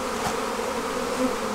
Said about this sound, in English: I just took half of their bees away and just moved the hive.